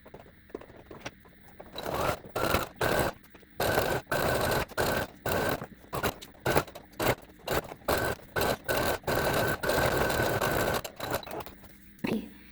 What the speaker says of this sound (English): So whenever I start sewing, I'm going to start sewing at the very end of the strip of fabric.